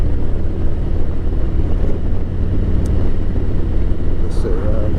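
A 2023 Harley-Davidson Street Glide cruises at 45 mph, its steady engine drone mixed with heavy wind rush at the microphone, and a rider talks over it throughout.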